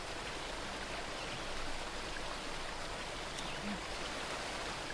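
Steady flowing water like a stream or small waterfall in Trials Fusion, a continuous even wash of noise at constant level with no breaks.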